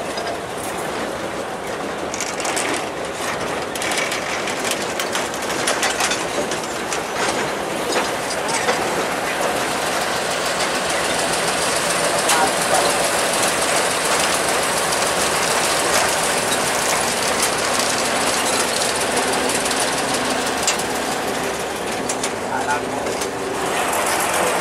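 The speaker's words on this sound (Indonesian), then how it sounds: "Lokomotif D06 melewati jembatan." A D06 locomotive heading toward the Jatiroto sugar mill rolls across a bridge, making a loud, continuous rumble of wheels and engine with rattling, clattering texture throughout.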